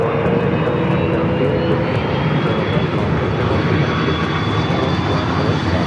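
An airliner taking off at Los Angeles LAX airport, a loud sustained jet engine roar that holds steady across the whole stretch, heard from a distance with no voices.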